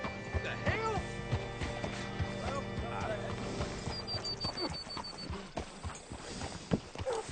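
Horse hooves clip-clopping in the Western video game Red Dead Redemption 2, a close, steady walking rhythm of hoof strikes that carries through with faint tack jingling and someone speaking over it.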